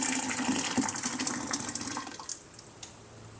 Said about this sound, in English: And we're gonna pour the 4 cups of hot water.